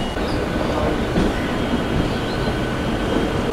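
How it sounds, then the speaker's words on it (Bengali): Sheoraphuli local train pulling out of Howrah station, a steady loud rumble of rolling carriages and wheels on track, with faint clatter and a light squeal, continuous throughout. "আমাদের ট্রেন ছেড়ে দিল হাওড়া স্টেশন থেকে"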